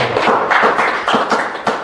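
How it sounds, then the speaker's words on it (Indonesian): Audience clapping at a stand-up comedy show in Depok for Bapak Jajang, a comedian who placed third in an internal competition; a few sharp, evenly spaced claps ring out close and fairly loud over a low murmur. "Tepuk tangan buat Bapak Jajang."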